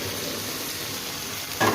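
Boiled chickpeas tipped into chicken frying in a pan for chicken chana masala, giving a steady close sizzle throughout that briefly swells louder and brighter as they land at the end.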